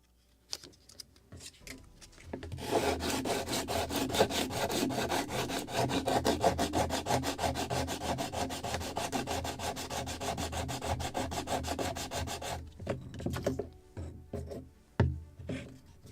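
Sandpaper rubs steadily back and forth over wood on a model boat kit, the cabin of a Muscongus Bay lobster smack, in a continuous close scratching run of about ten seconds, then a few scattered softer strokes and taps.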